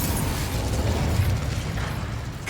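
A Confringo fire spell explodes in Hogwarts Legacy, a loud, dense blast and rumbling burst that fills the short moment, with no talk over it.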